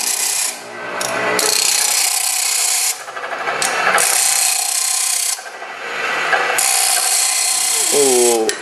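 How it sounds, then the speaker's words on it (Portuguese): Hand file smoothing and finishing the edges of a steel hatchet clamped in place, loud continuous rasping strokes in long sustained passes with brief breaks between them, close up. "Aí tem que dar um acabamento agora com a lima manual. Prende ela e alisa ela."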